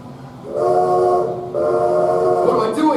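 Train sound effect in a 2019 stage production of The Music Man, a sustained loud chord of train whistle or horn tones sounding in two long blasts over a low rumble, with no voices.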